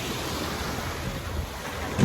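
Sea waves at a crowded beach in Krabi, a steady wash of surf mixed with wind rumble on the microphone and a brief thump near the end, no voices.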